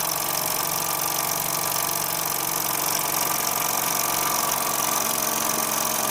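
A Bowman M140 model steam engine runs on compressed air at about 5 psi, giving a steady, continuous mechanical hum with a faint rapid beat, close and alone at an even level throughout.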